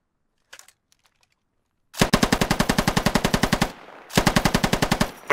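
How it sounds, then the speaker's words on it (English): A machine gun in a video game fires two long, rapid, evenly paced bursts of loud, close shots with a brief gap between them, after a couple of faint clicks at the start. "Keep that machine gun going"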